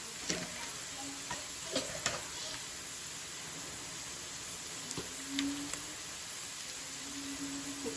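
Ivy gourd curry sizzles steadily in a pan with a soft, continuous fry hiss, broken by occasional scraping clicks of a spoon stirring it; fairly quiet and close, with no talking.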